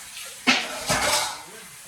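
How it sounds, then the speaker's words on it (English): A metal pot covered with its lid while cooking curry goat, rice and peas and fried fish over a fire by a river: two clanking strikes of lid on pot, the second followed by a brief ringing scrape, with outdoor background. "And then you cover the pot."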